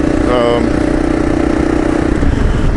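A Kawasaki KLR 650 single-cylinder motorcycle runs in a loud, close, steady thumping drone with a brief tonal whine near the start, and a rider talks over it.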